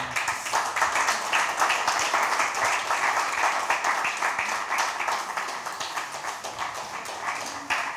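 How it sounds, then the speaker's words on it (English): Lecture audience applauding a professor after a talk on African music, a sustained, even round of many hands clapping, fairly close and loud, easing slightly toward the end. "Another round of applause for our professor,"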